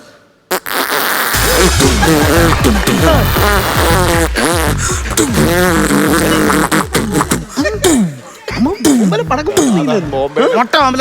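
A voice mimics a long Diwali string of firecrackers (maalappadakkam) going off, as a rapid, loud, continuous burst of popping and crackling mouth sounds. It runs for several seconds and breaks into scattered pops toward the end.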